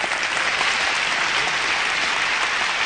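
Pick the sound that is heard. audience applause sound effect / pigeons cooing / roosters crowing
audience applause sound effect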